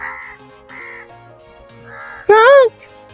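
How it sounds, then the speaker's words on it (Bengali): Crows caw in a short outdoor scene, with several harsh calls in a row and one loud, close caw near the end, some background noise underneath and no talk. "কাক কাক করতেছে"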